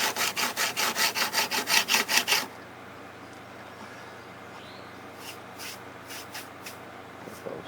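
A knife blade drawn across the stone of a Ruixin Pro sharpener makes about a dozen quick, even rasping strokes up close, followed by a quieter pause and a few softer, scattered scrapes.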